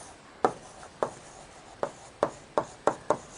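Marker or chalk strokes on a classroom board come as a series of short, crisp scratching taps, about eight strokes in quick uneven rhythm, close and alone.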